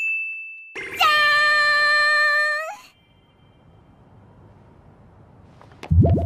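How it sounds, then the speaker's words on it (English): An anime boob-motion sound effect: a bright, ringing chime-like ding sustains for about two seconds after a short high tone, then fades into quiet background, with a brief low thump at the end. "Boob motion sound effects helps us the viewer know that boobs are moving."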